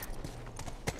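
A horse's hooves clip-clop across the ground in The Last of Us video game, a few quick uneven hoof strikes over one second, fairly quiet, with a sharper final knock.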